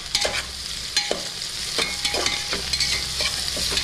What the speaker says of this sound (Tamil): இந்த வெங்காயம் பச்சை மிளகா வந்து இந்த எண்ணெயில் நல்லா வதங்கட்டும்.